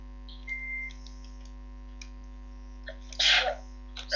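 A single short sneeze bursts out near the end, close and fairly loud, over a quiet background with a steady electronic hum and a few faint clicks and beeps from a game.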